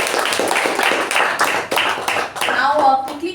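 A Toastmasters meeting audience claps for the Toastmaster and executive committee, the dense clapping briefly rising and fading as a voice begins speaking near the end.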